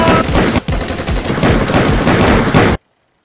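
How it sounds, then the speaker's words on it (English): Gunfire from the shootout scene of the action film From Paris With Love: a dense, loud burst of rapid automatic fire lasting nearly three seconds, then an abrupt cut to silence. "I'm shooting everyone in this restaurant!"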